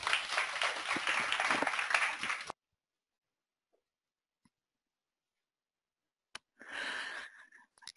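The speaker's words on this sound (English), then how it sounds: "Another round of applause," An audience applauds a speaker at a university talk. A short burst of clapping cuts to silence, then a second brief round of applause follows.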